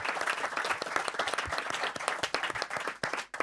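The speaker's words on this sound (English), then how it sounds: "I want to give them a giant hand of applause." An audience applauds for event staff at a Caribbean climate change gathering, a dense burst of many hands clapping at close range with a few sharper individual claps standing out.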